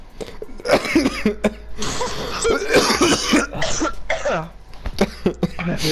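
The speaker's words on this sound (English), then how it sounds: "I have a cough." Several people coughing and clearing their throats in a burst of hoarse, repeated coughs mixed with laughter-like vocal noise, loud and close, one cough after another over about six seconds.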